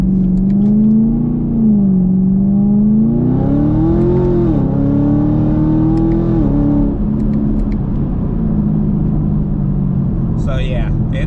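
Supercharged Chevrolet Camaro SS accelerating at wide open throttle, a loud close engine drone rising in pitch through the pull, dipping at a shift, then easing to a lower cruise.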